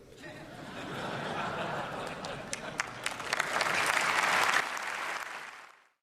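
A standing audience applauds the 74-year-old King after his speech, broad clapping swelling with light laughter and chatter mixed in before it fades out.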